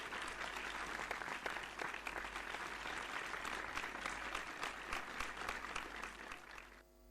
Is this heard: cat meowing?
no